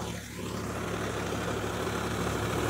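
A Sonalika 47RX tractor engine runs steadily in first low gear while ploughing shallowly through a potato field, a continuous even drone that holds at a moderate level throughout.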